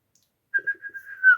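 A person whistles a short melodic phrase, a clear, steady tone that wavers slightly, heard alone in a quiet room.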